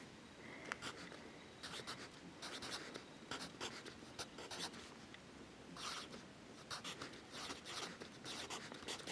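Pen writing the numbers 1 through 10 by hand on paper, heard as short scratchy strokes in uneven bursts with brief pauses between digits, close and fairly quiet.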